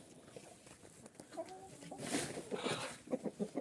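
Hens cluck softly in a series of short, irregular calls over a steady background rustle, close by and at moderate volume.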